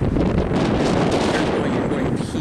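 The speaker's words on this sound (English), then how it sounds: "It is very windy. We've had some wind gusts come through," Strong wind gusts buffet the microphone outdoors, a loud, continuous low roar and rumble that barely lets up.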